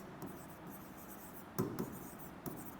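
Chalk or marker scratches a quadratic equation onto a board during a Class 10 maths lecture, faint soft strokes with a few brief louder taps in a quiet room.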